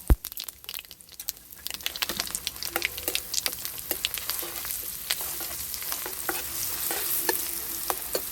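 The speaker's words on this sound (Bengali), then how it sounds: "তারপর আমি দিয়ে দিচ্ছি বেটে রাখা লঙ্কাটা" Ground chilli paste added to hot oil with tempered cumin seeds sizzles steadily, with scraping stirs and crackling pops throughout, close and fairly loud, building as the paste fries; no talking.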